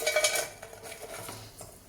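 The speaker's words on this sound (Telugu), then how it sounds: "స్టవ్ పెట్టేసుకొని గిన్నె పెట్టేసుకొని" A cooking pot clanks down onto a kitchen stove with a few sharp metallic knocks up front, then lighter scraping and handling of cookware trailing off, close and fairly quiet.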